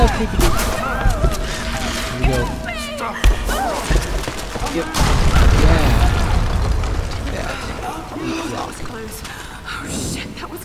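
A loud explosion erupts in the Tomb Raider video game, a broad heavy boom that swells and rumbles for several seconds before fading, with speech heard alongside it.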